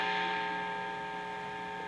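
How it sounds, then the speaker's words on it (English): A guitar amplifier emits a low, steady electrical hum with buzzing overtones, faint and unchanging, with no playing or talking. "it gets rid of some of that hum"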